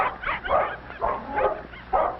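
A Scottish terrier gives four short yips or barks at roughly even intervals, close and fairly loud, with no talking.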